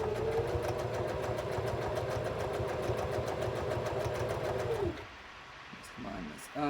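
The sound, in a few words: sewing machine stitching jelly roll fabric strips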